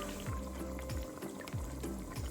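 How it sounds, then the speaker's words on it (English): Water pours steadily into a pot of beef stew with sautéed tomatoes, a continuous splashing gurgle with faint bubbling and a low hum underneath. "I'm gonna be adding now 1/2 cup of water."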